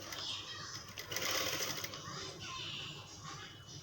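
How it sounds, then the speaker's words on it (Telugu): A sewing machine stitches slippery silk cloth with sequin work for a prince-cut blouse. Its steady, busy whir runs close and continuous while someone talks over it. "ఈ విధంగా స్టిచ్చింగ్ చేసేసుకోవాలి మొత్తం కూడా చూడండి ఈ విధంగా స్టిచ్చింగ్ చేసుకోవాలి"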